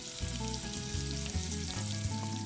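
Food fries in a pan with a steady, close sizzle and crackle, with a low background hum and no talking.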